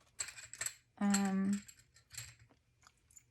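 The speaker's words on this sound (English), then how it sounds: "So I'm just going to cut some of these orange peel up." Scissors cutting dried orange peel, a series of short crisp snips and rustles with a brief tonal scrape in the middle, close and fairly quiet.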